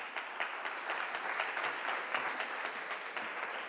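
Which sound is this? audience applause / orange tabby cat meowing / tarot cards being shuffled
audience applause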